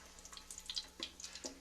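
Bay leaf and cashews fry in a pan for donne biryani, a faint crackling sizzle with scattered small pops and a few clinks.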